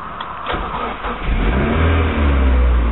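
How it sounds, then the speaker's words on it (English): A manual sports car engine revs up loudly nearby, the throaty roar climbing and holding at a higher pitch, with no one speaking. "I'm going to show you the engine noise."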